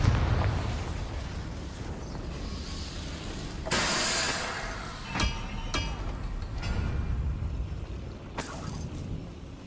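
The Confringo fire-blast spell in the Hogwarts Legacy game, a loud booming burst with a crackling wash of debris, followed by a couple of sharper pops and another blast over a constant rumbling game backdrop, no talking.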